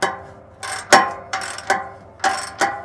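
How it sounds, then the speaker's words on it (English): A ratchet wrench tightens 14 mm exhaust flange bolts on a 2024 Toyota Tacoma's axle-dump exhaust, giving six close, crisp bursts of clicking in an uneven rhythm, with no talking. "Going little by little on both sides of the flange to make sure that both bolts tighten down nice and even."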